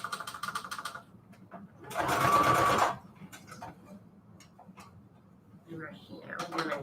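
A sewing machine stitches fabric onto manila tags in two or three short runs, the longest a steady whirring burst of about a second, with soft clicks between, and a person talking quietly around it.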